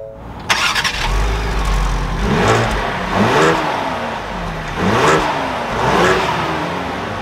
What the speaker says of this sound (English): as we start this back up, let's take a listen to that V6